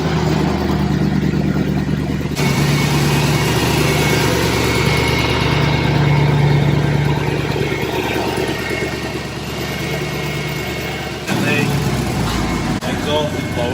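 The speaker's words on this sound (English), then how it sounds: "Exhaust is blowing," A Mercedes W204 C63 engine idles steadily with a rough, rumbling blowing exhaust; a low drone continues throughout, louder and near, with a brief shift near the end.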